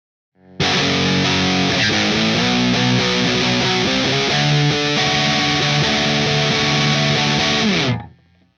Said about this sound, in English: And the entire pre-chorus B sounds like this.